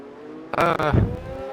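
A Ferrari Formula 1 car in a racing video game at Azerbaijan roars past in a brief, loud burst of high-revving engine tone that quickly falls away, with no talk.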